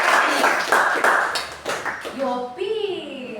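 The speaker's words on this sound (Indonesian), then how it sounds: "Tepuk tangan untuk Alia." Classroom clapping for a student in a lesson about Tanimbar flora, a short burst of several hands in the first two seconds, then a voice speaking after it fades.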